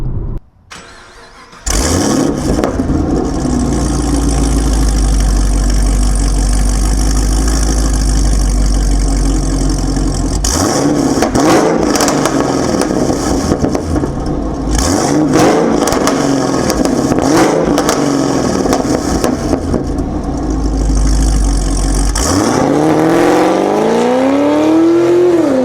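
Chevrolet Camaro ZL1 engine fitted with Speed Engineering long tube headers, starting up loud and close, then idling deep and rumbling, with several sharp throttle revs blipping through the idle.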